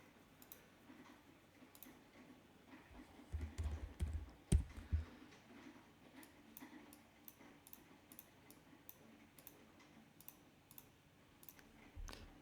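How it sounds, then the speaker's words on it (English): Light clicks of typing on a computer keyboard, with a brief denser flurry of keystrokes early on and then sparse, quiet taps spread out, faint and close with no speech. "say we wanted to type in some stuff"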